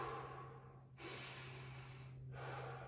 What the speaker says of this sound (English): And you're going to take deep breaths.